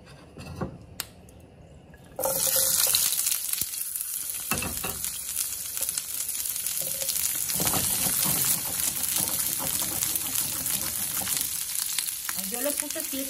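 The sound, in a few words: pork being fried in a pan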